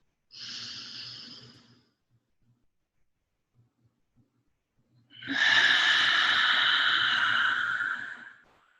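Two slow, deliberate breaths during a mindfulness session: a short exhale, a long quiet pause, then a longer, louder breath, close and airy, with no speech.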